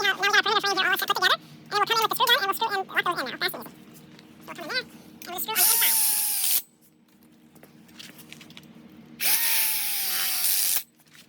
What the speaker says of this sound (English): Screw all 4 of those onto your bottom frame here.